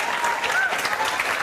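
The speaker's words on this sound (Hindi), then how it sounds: "जोरदार तालियां बजाओ।" A crowd claps loudly for a girl selected for the Delhi Police, a dense continuous patter of hands with a faint voice audible beneath.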